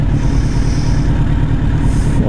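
A motorcycle engine idles loud and close in hot weather, a continuous low rumbling drone with no distinct revs and no speech.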